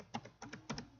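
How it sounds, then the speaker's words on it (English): Quick keystrokes on a computer keyboard while typing into a text entry box, about six crisp close-up taps in two uneven bursts, with no voices. "now we're going to try typing in"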